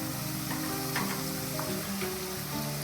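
A spiced gravy tempering for sambar sizzles in a pan, a dense continuous frying hiss with faint stirring, close and even throughout, no speech.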